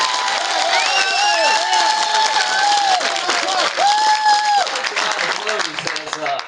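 A large outdoor crowd at the 2022 Nebraska Steak Fry political event applauds a former president, with loud, sustained clapping, cheering and whoops that swell and then fade toward the end.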